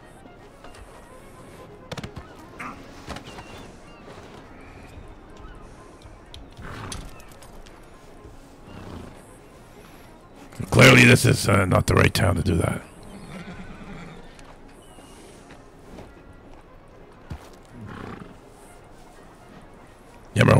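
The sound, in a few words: horse neighing and hooves in Red Dead video game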